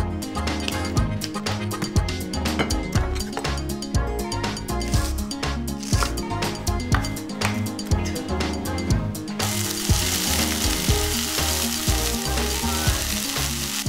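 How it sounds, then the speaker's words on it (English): Carrots and onions stir-fry in a hot pan for kimchi fried rice. There is steady loud sizzling with rhythmic scraping and tossing from a spatula, then a continuous hiss in the final seconds. "The vegetables taste even better when they're stir-fried"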